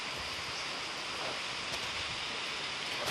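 Rain falls at home onto a water tank area, a steady, even hiss of moderate loudness that continues without a break.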